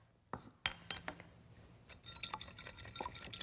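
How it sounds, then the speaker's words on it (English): Whisk clinking against a measuring cup while blending olive oil and red wine vinegar dressing with salt and pepper, a series of quick, close taps and clinks of uneven rhythm. "Whisk that together"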